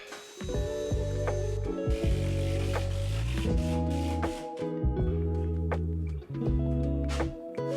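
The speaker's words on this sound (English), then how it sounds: "I'm pre-drilling with this countersink" A power drill fitted with a countersink bit whines loudly up close, its motor pitch stepping up and down in repeated bursts with brief pauses between runs.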